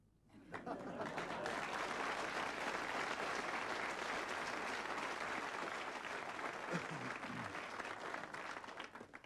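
Comedy show audience bursting into applause that swells quickly from quiet into loud, dense clapping and holds strong for several seconds, with some crowd noise mixed in.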